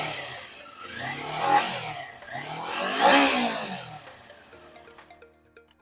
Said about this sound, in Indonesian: Kita cek sound.